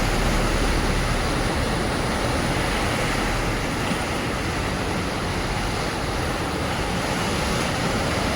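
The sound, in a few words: canal water overflowing and rushing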